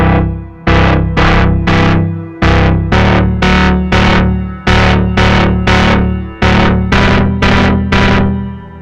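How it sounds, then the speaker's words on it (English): A synth run through a Gen Loss saturation pedal plays a series of loud, gritty, heavily distorted stabbed chords, each note cut off sharply, repeating in a steady rhythm with no talking. "I much prefer that sound of distortion versus the built-in distortion on a lot of synths"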